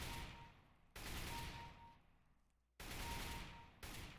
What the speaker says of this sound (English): let's say you want to practice bursting. It will take 3 shots to kill.